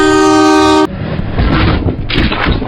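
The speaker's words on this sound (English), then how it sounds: "when a train approached" A fast-moving train on a railway stretch in Hyderabad, India, blasts its horn in a loud steady tone, then a heavy rushing roar of wheels and carriages sweeps close by and continues.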